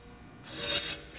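A metal file rasps across hand saw teeth during sharpening, one short gritty stroke that swells and fades over about a second, close and alone.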